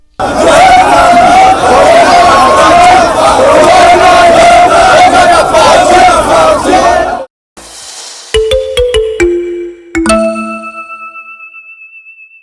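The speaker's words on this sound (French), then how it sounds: "Le chef de l'État a communié avec une immense foule de filles et fils de Kamina scandant des chansons." An immense crowd in Kamina chanting songs, a loud dense roar of massed voices for about seven seconds, then cut off abruptly and followed by a few sharp bright chimes and ringing tones.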